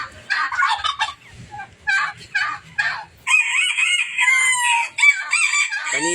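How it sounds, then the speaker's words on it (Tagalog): Several male turkeys gobble in repeated loud, rattling bursts close by, overlapping each other in a farmyard, with clucking fowl in the background and no talk. "Ayan nga pala yung mga barako na pabo."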